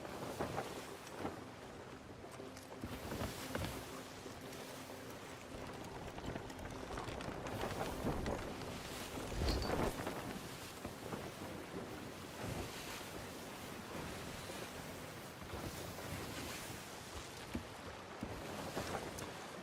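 A sailing ship on the open sea in the game Sea of Thieves, with continuous waves and wind rushing past a wooden hull, steady and fairly faint throughout with a few louder surges.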